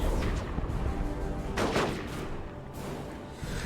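Lascannon fire in the Dawn of War 2 Elite Mod strategy game, heard as a loud burst of gunfire-like blasts with one strong shot near the middle, set among dense battle noise.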